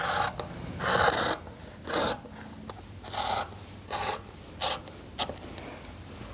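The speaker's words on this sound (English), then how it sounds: "use the ruler, slip it underneath the batting, and then cut on the marked line" Quilt batting is cut along a ruler in a series of close, evenly spaced rasping strokes, about seven scratchy bursts with brief pauses between them.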